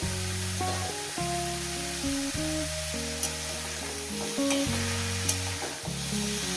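Leafy greens hit a hot frying pan for a shak chorchori with lote fish, giving a steady, close sizzle broken by repeated scraping stirs.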